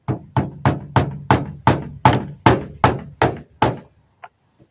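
Ten steady, forceful hammer blows pounding a hole through metal on a Craftsman lawn mower, one after another at an even pace, each with a metallic ring, followed by a couple of faint taps.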